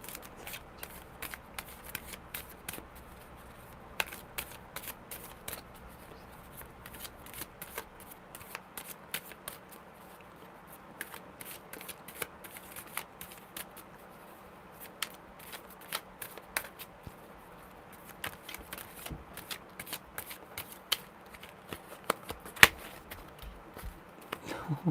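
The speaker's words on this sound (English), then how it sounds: "No, I haven't even started to shuffle" Tarot cards are shuffled over and over in quick riffling bursts, soft and close, with brief pauses between rounds and no talking.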